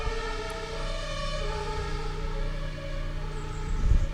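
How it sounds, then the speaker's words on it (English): Sirens wail outside, sustained and droning with layered tones, heard from a distance, with a low rumble of a neighbor's lawn mower underneath. "the sirens are going off."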